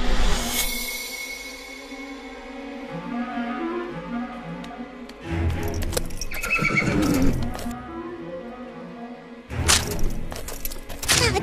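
Horses whinny loudly in a 3D animated Vietnamese fairy tale, with hooves clip-clopping and a few thuds. Bursts of neighing open and close the stretch, and a busier clatter comes in the middle, with no talk.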